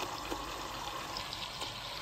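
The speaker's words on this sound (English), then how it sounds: "I'm just cleaning it out with water so you can see." Water runs and splashes steadily inside a hot chocolate maker being rinsed out, a continuous trickling wash with faint clinks, fairly quiet and heard alone.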